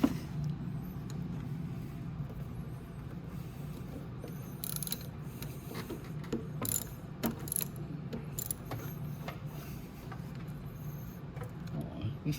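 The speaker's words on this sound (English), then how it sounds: "all you need is a socket with a really long extension" A socket on a long extension turns the ignition bolt of a Venom x22R MAX 250cc motorcycle, making soft steady ratcheting and metallic clicks close by over a low hum, with brief sharper clinks partway through and no talk.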